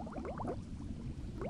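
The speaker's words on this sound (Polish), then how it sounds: "Bąbelki!" Cartoon underwater bubbling, a quick run of soft rising blips and gurgles, then a pause and another short burst of bubbles, fairly quiet and close, with no speech.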